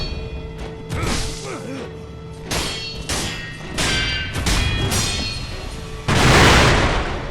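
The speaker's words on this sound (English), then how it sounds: "Every time he throws the shoulder thrust, he's gonna throw the firecracker." In the Sekiro boss fight against Great Shinobi Owl, firecrackers burst alongside sword clangs and heavy impacts. The bangs and metallic hits come in a rapid series of sharp, loud bursts, with a bigger crackling blast near the end.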